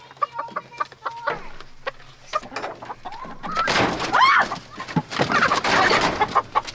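A flock of chickens being caught from a coop clucks and squawks nearby, starting with scattered clucks and rising into a frantic, flapping commotion of overlapping squawks.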